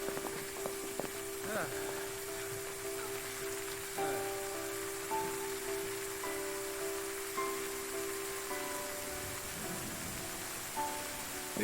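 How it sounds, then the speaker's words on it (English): Steady rain falls in the video game Final Fantasy 13, a constant wash of hiss with scattered droplet ticks, layered under game music and ambient tones for the whole stretch. "At least they made it here before the rain hit."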